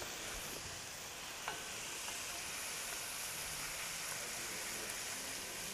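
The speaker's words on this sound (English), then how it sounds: "Chef Andrew is sauteing the salmon right now" Sockeye salmon sautés in a pan for Asian ginger salmon, giving a steady, close sizzle and spitting hiss with a few faint clicks and no talking.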